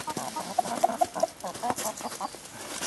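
Hens on a hillside smallholding cluck in short, repeated bursts close by, a steady chatter of several birds with no talk over them.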